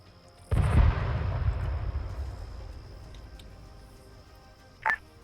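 Gunfire pours into a building in the WWII game Arma 3 Iron Front, opening with a sudden heavy boom that rolls into a long fading rumble, then a short sharp crack near the end.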